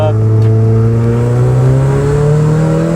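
A supercharged Mazda MX-5 Miata with a misfire revs hard on a dyno, its loud, close engine drone climbing steadily in pitch, with a voice faintly under it.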